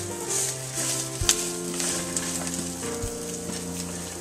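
An omelet frying in a pan at home for breakfast, giving a steady close sizzle and crackle with a few sharp pops and utensil clicks and no talking.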